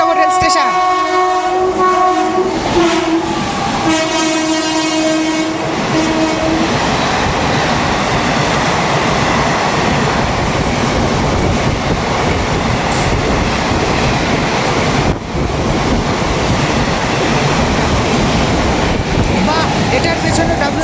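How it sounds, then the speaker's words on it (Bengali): A TOD special express train bound from Gazole to Kolkata roars loudly through Birnagar railway station without stopping at night, opening with repeated horn blasts before a long, steady rumble and clatter of passing coaches. "আসছে আমাদের পরবর্তী স্পেশাল ট্রেন গাজল থেকে কলকাতা অবধি যাওয়া টিওডি স্পেশাল এক্সপ্রেস ট্রেন, আর এখন স্কিপ করবে সেটা বীরনগর রেল স্টেশন"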